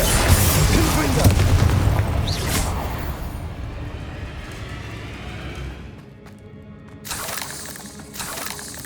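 A Confringo fire spell bursts with a loud booming explosion in the Hogwarts Legacy video game during a fight with spiders, followed by a decaying rumble and further sharp blasts and crackles; game voices shout over it.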